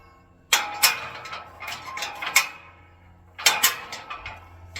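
Steel latch pulled out on a cattle bow gate, two clusters of sharp metallic clanks and rattles up close, each burst of several hits followed by a pause, no talk.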